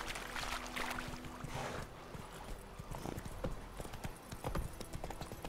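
Roach, the horse in The Witcher 3, trots along with steady clip-clop hoofbeats, close and fairly loud, amid ambient game sound, with a brief whinny-like touch.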